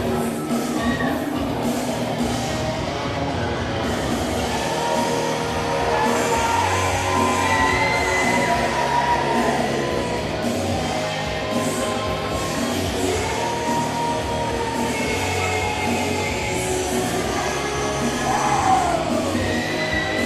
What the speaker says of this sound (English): My God, this crowd, sold out capacity crowd here in West Newton